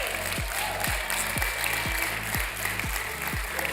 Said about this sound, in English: give Debbie, our children's director, a round of applause